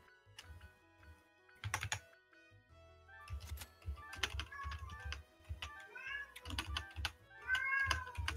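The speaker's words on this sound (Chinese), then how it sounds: "猫咪，猫咪" A house cat meows in short calls scattered between bursts of computer keyboard typing, both fairly quiet and close, with clicks and meows alternating irregularly.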